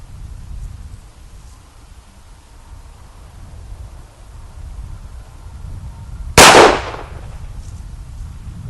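A single H&K USP pistol shot, a sharp loud crack with a short ringing tail, standing out against quiet outdoor range ambience.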